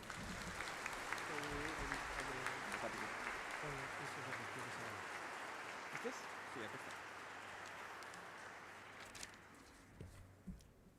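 Applause from a ceremony audience at a judicial farewell and recognition event fills the hall as a steady, fairly distant wash, with voices speaking over it near the start.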